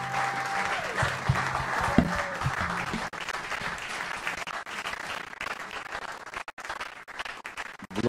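A church congregation applauds and cheers loudly and steadily, with voices calling out over the dense clapping, which carries on throughout.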